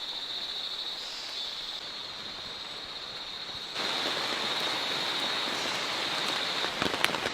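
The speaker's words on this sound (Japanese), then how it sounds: "また、雨が降ってきた。" Steady rain falls in an Asian tropical rainforest, a dense continuous hiss with a high insect-like whine above it, growing slightly heavier partway through and lasting throughout with no voices.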